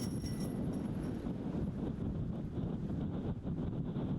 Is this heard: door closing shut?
no